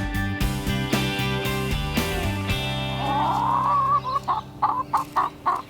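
A pet chicken named Ducky clucks in short, rising, repeated bursts, near and fairly loud, over background music and with no talking.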